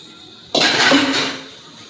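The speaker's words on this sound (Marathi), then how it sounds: "भांडे घासून घेते." Dishes and pots being washed at a kitchen sink, with a sudden clatter of metal cookware that rings briefly and then fades to quieter scrubbing.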